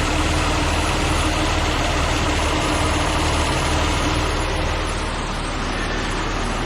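A 2005 Mazda Tribute engine idles with its A/C compressor clutch engaged, giving a steady, loud, even mechanical hum with a constant low rumble and no talking.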